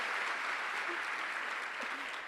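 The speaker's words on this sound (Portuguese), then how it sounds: "Pode dar uma salva de palmas para o meu chefe aí, gente?" An audience at a talk applauds the speaker's boss with steady, sustained clapping that fills the room at an even level throughout.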